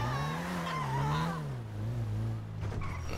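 A car in GTA 5 drives with a steady engine drone that rises and falls, tyres squealing toward the end, close and fairly loud with no talk.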